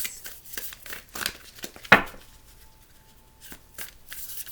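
Tarot cards are riffled and shuffled in several short bursts, with one sharper snap in the middle, close and fairly quiet with pauses between.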